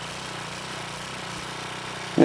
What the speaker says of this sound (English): this tiller engine actually starts easier than my lawnmower